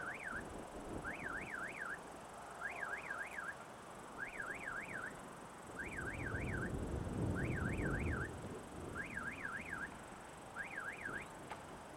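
Alarm bell at a railway level crossing in Latvia, ringing in quick repeated warbling bursts, steady and fairly close over a low rumble of wind and traffic, sounding although no train comes.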